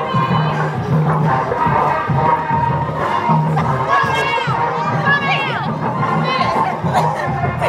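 A youth cheerleading crowd shouts and cheers in a busy hubbub of children's voices, with whooping bursts rising over steady chatter close by.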